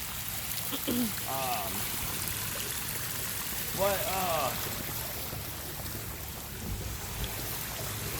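Steady splashing water fills the background like a small cascade into a pool, with brief voices talking over it at moments.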